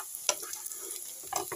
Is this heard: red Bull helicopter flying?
no